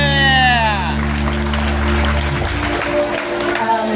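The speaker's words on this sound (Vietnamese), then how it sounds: "Xin mời quý vị một tràng pháo tay." Guests clap to open a birthday party at Diva Ballroom Dancing Studio. Sustained musical tones ring at first, then give way to a dense wash of clapping with voices mixed in.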